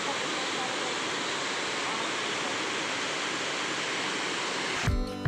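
A waterfall with strong flow in a green valley, a broad steady roar of rushing water, loud and continuous, cut short by a brief handling bump at the end.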